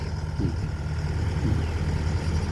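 A Sumitomo SH130-6 excavator's diesel engine runs close by with a steady low rumble and a faint rhythmic knock, without any voices.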